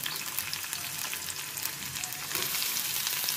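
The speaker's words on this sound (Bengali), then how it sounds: "পেঁয়াজ আর রসুন কুচি ভাজা হয়ে গেলে" Chopped onion and garlic fry in oil in a home kitchen pan, a steady close sizzle with light crackling and occasional stirring, swelling slightly louder toward the end, with no voices.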